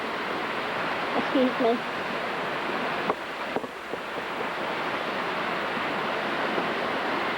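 A creek flows over rocks along a riverbank, making a constant broadband rush of water. A person speaks briefly near the start and a couple of faint knocks can be heard.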